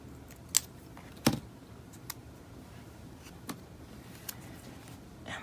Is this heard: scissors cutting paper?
yes